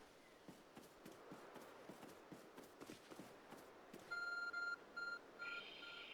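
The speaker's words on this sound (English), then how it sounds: "There's a glowing, beeping object over there." Phone in Pokémon Legends Arceus beeping in short repeated electronic tones near the end, after a run of soft footstep taps on a quiet background.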